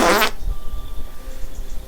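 A short, loud, raspy fart sound effect blurts out at the start, then trails off into a quiet background rumble.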